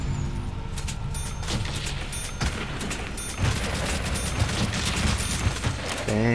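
Dense, near-continuous gunfire against zombies in World at War's Nacht der Untoten, loud rattling shots piling up with mechanical clatter and occasional talk underneath.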